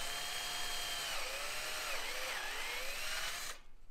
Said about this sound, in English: we're gonna just do a little pre-drill, because I just don't like cracking wood